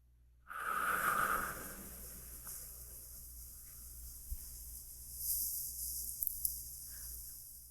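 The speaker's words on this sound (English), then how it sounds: "And breathing out." One slow, deep out-breath in a guided meditation, a soft breathy whoosh near the microphone that tapers off, followed by quiet with a few faint small noises and a light second airy swell.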